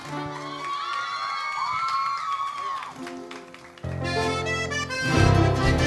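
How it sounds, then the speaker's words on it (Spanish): A crowd cheers and applauds for Jonás Pereira, with shouts, whoops and clapping over tonal music, and voices swelling louder in the final seconds. "Los aplausos para Jonás Pereira."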